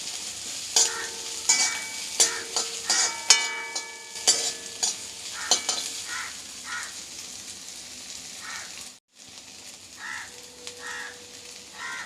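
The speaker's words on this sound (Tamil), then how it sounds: "இருக்கிற அந்த ஆயிலே வச்சு நம்ம வந்து வெங்காயமும் பூண்டும் வதக்கிக்கணும்" Sliced onions and garlic sauté in a little oil in a pan, with a lively sizzle under sharp clinks and scrapes of a spoon stirring early on, then a brief pause before the frying hiss resumes more softly.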